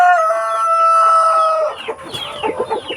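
A Rhode Island rooster crows close and loud in one long drawn-out call, then breaks into a run of quick clucks in a morning farmyard.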